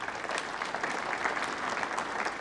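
Audience applause at a snooker semi-final between Kyren Wilson and Mark Allen, a dense steady patter of many hands clapping from the arena crowd, fairly soft and sustained.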